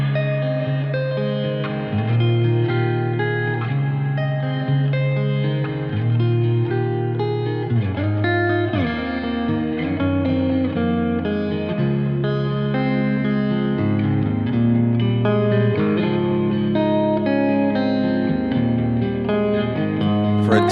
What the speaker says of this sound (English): let's kick it on with sort of a shorter reverb and just kind of hear how it adds some presence to the guitar